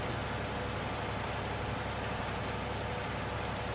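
Steady rain hisses during a countryside drive in Farming Simulator 19, a constant, dense wash of noise with a faint low engine rumble beneath and no voices.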